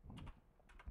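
Keys tapped on a computer keyboard with one hand while recording music software, a few quick clicks in a short burst, close and fairly quiet, followed by a louder thump at the end.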